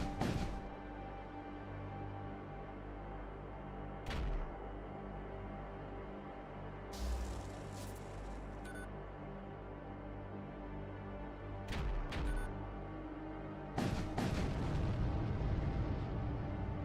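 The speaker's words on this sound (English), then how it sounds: "Anyway, continue the bombardment." Ship bombardment in the Void War video game: heavy booming explosions hit at intervals over a low continuous rumble, with a bigger sustained blast near the end and no speech.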